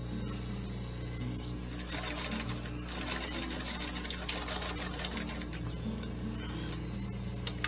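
A sewing machine chain-pieces pocket cross quilt blocks, close and steady in rapid mechanical stitching bursts with a slight pause in the middle and soft clicks of fabric handling.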